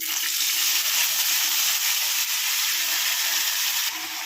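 Boiled black-eyed pea pods sizzle in hot oil with curry leaves, a dense, bright frying hiss held close and steady throughout, dipping slightly near the end.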